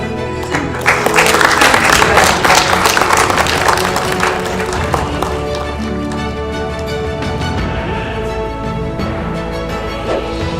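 Sustained applause from an audience at an award ceremony where national honors are presented, dense steady clapping swelling early then holding even, with background music or hum underneath.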